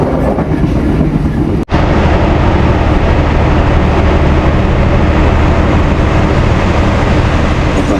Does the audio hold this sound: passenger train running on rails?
yes